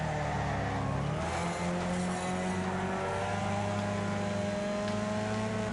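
A small 2-cylinder car engine in Wreckfest drones steadily and builds speed, a continuous racing-game engine hum with rising harmonic tones over a low rumble, fairly loud and unbroken throughout.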